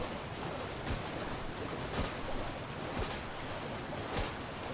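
Steady broadband rush of a waterfall in the Elden Ring DLC, a constant close wash of falling water with faint periodic thumps, no voices.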